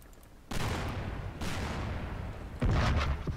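Cannon fire in a pirate game: three heavy, close booms spaced about a second apart, each with a rumbling tail, the last one loudest.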